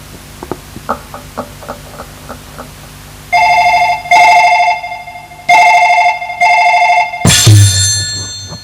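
A police station telephone rings: a few faint ticks first, then loud repeated electronic trills in bursts, ending with a sharp clatter as the handset seems to be picked up.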